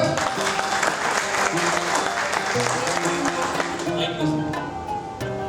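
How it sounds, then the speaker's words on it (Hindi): An audience at an indoor wellness achievers' gathering breaks into dense, sustained clapping that fills the room, with voices talking and calling out beneath it. "ताली दो बजा दो यार"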